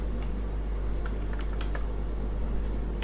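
Quick, steady typing of HTML code on a computer keyboard, with light clicky keystrokes clustering near the middle over a constant low hum, no voices.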